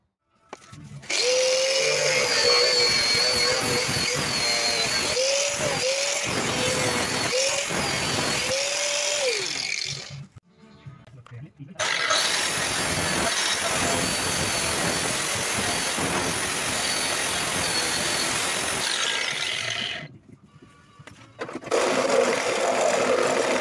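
A power tool cuts into a part on a Toyota Hilux in two long, loud, steady whining runs with a short stop between them, and a few brief grinding dips near the start.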